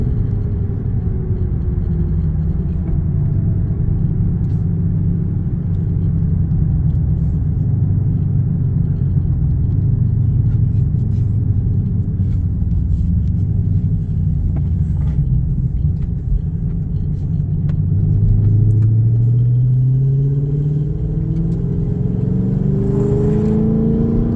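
A purple Plum Crazy car drives up the road after leaving a highway exit, its engine a steady low rumble heard from inside the cabin, with a rising whine as it accelerates near the end.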